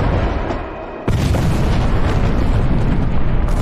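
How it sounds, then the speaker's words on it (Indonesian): Artillery shelling by German guns against Soviet trench positions, a sudden heavy boom that erupts into sustained, dense roaring rumble filling the rest of the clip, close and loud with no voices. "tentara Jerman pun mulai menghujani tentara Soviet dengan tembakan artileri yang bertubi-tubi"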